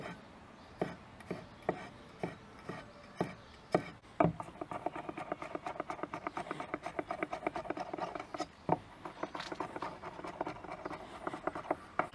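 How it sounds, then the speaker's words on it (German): Fresh garlic is cut into slices with a knife on a cutting board, first as separate taps about half a second apart, then as a denser, faster run of soft chops, close and quiet. "Jetzt einfach nur in Scheiben schneiden."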